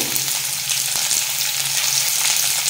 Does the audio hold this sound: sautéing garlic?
yes